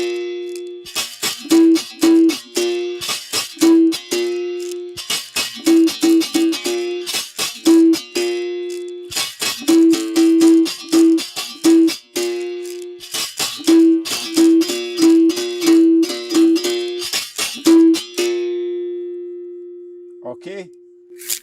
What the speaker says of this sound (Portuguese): Esse é o som do gunga.